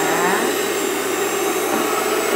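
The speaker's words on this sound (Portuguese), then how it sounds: "Eu vou bater com a batedeira." A close, loud electric mixer whirs steadily as it beats homemade fabric softener, with no talking.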